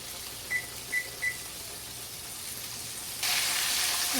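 Country fried steak sizzles steadily in a hot pan, a soft continuous frying hiss with a few faint beeps early on and the sizzle growing louder near the end.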